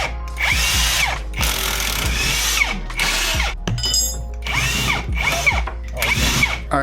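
An impact tool or power drill whirs in short, repeated bursts while wheels come off a 2005 Subaru WRX STI, each loud rattling spin starting and stopping in quick succession close by.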